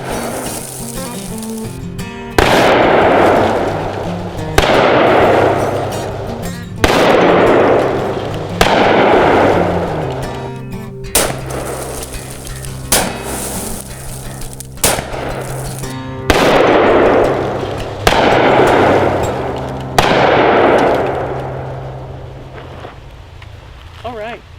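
Gold and silver Desert Eagle pistols fire at a shooting range, about ten heavy, booming shots spaced a second or two apart, each with a long rumbling decay, with people talking in between.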